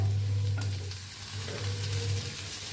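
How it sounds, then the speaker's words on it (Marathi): Whole spices roast in a pan with a low, steady sizzle and occasional light stirring scrapes, under a constant low hum from a stove or kitchen appliance. "सगळे खडे मसाले घेतले होते ते भी ह्याच्यात भाजून घेऊया, हलवून घेऊया"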